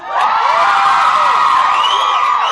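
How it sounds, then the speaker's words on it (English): Girls in a comedy stage hypnotist show's audience scream and cheer together on cue, a loud, sustained crowd of high-pitched shrieks and whoops filling the whole stretch without letup. "I want to hear you scream, I want to hear you cheer on the count of 3."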